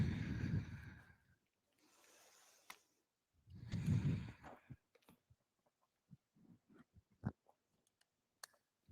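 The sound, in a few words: slow breathing, inhale and exhale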